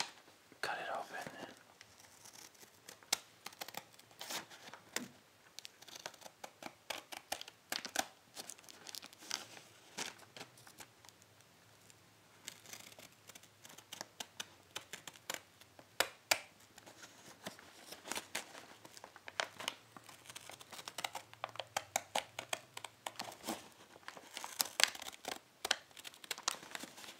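Japanese candy package being cut open with scissors up close, giving soft crinkling, snipping and rustling of plastic wrapper in a quiet whispering setting, with light handling noises throughout.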